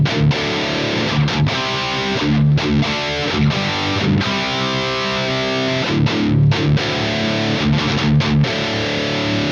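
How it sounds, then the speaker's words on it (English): High-gain electric guitar through a Mesa Boogie Mark IV amp, set deep with little bass and mids. Loud, saturated chords and riffs ring with brief stops between phrases, and no voice is heard. "So the Mark IV mode, really deep, you know, high gain, really kind of nice sound."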